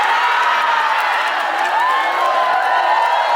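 A large audience at an Islamic sermon gathering in a pesantren cheers, whoops and shouts in a loud, continuous crowd roar, with some clapping blended in throughout.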